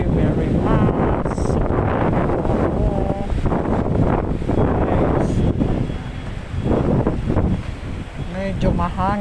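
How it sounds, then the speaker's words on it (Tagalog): Strong wind buffets an outdoor microphone in heavy continuous rumbling gusts, with a voice talking faintly underneath and a few brief higher tones near the end. "Ayan, mahangin"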